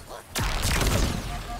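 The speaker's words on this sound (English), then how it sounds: "The explosions are top notch in this game, though. And the explosion sounds." In the video game Halo Infinite, a sudden loud blast erupts after a brief quiet moment, followed by a rumbling, crackling boom that fades slowly.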